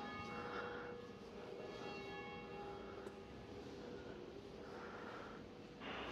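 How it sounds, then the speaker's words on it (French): Church bells ring two strokes on a Paris afternoon outdoors, with sustained tones that hum over faint street noise at a moderate distance, and no talking. "Sympa, on entend les cloches."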